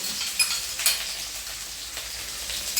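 Ginger and garlic sizzling in hot oil in a pan, a steady bright hiss throughout with a couple of louder crackling pops and faint stirring, no voices.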